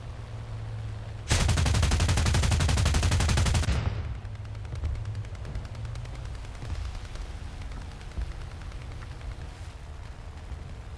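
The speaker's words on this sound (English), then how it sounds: "Using the 15mm cannons to punch through the upper deck" A loud, sustained burst of rapid 15mm cannon fire at an enemy ship's upper deck in a video game, then quieter repeated shots continuing steadily under a low engine rumble.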